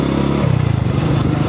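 Euro Rapido 110 motorcycle engine while riding from Tagaytay to Talisay, Batangas: a close, loud pulsing putter that shifts pitch as the throttle changes, running steadily without speech.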